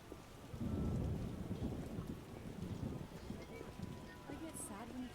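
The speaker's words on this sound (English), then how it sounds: "I get sad when it rains" Rain pours steadily with deep rolling thunder in The Witcher video game, a dense wash of rainfall that swells early and then settles into a constant patter.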